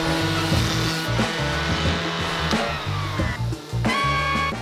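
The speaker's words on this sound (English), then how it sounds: "Then of course you just cut it out using a jigsaw." A jigsaw buzzes loudly and continuously as it cuts through a wooden board outdoors, its motor pitch dipping briefly under load near the end, close and without talk.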